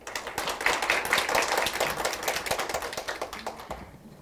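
An audience at a Daejeon policy forum claps to welcome the moderator, a brisk patter of many hands that fades out after about four seconds.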